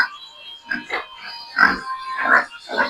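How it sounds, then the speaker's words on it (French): Pigs grunting in a pen on a pig farm, with a sow and boar kept together; several loud, close grunts and snorts come in irregular bursts, some overlapping, without any talk. "Voici 2 porcs ici."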